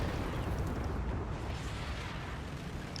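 A 76mm tank shell strikes a tank in a World War II combat game, heard as a loud, sustained roaring blast and rumble that fills the whole stretch, with no voices over it.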